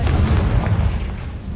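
A Confringo blasting spell from the Hogwarts Legacy video game, heard as a loud, deep booming explosion with a heavy low rumble that fades slowly.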